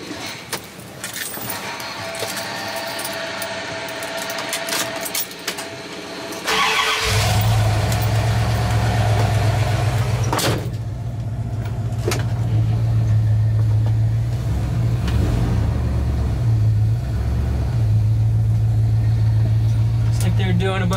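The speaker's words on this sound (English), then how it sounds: "Truck out of the way, excuse the noise." Keys jangle briefly before a truck engine starts up on a street under repair and settles into a loud, steady, close idle rumble.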